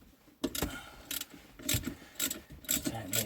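A spanner works on the alternator wiring of a Porsche 986 Boxster, giving bursts of close metallic ratcheting clicks in several short, uneven runs.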